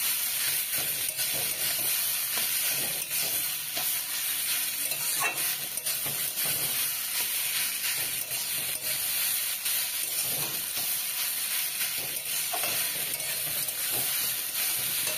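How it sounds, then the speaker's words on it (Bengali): Grated or chopped papaya for papaya halwa frying in a kadai, a steady hissing sizzle with scraping stirring strokes throughout, fairly close and without talk. "এবার পেঁপেটা দিয়ে দিলাম কড়াইতে, একটু নেড়ে নেব।"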